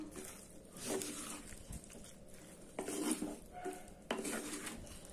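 A spoon stirs drumstick kootu in a pot after the tempering is added, giving quiet, intermittent metallic scrapes and clinks in short bursts.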